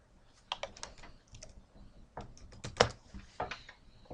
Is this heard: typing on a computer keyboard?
yes